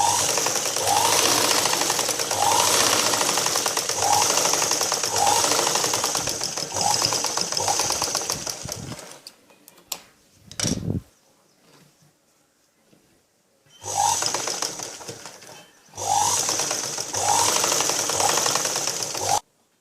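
A sewing machine stitching a blouse gives a steady, fast mechanical whir with a regular rhythmic clatter. It runs in long bursts, stops with a few clicks during a quiet pause, then starts again in two more runs.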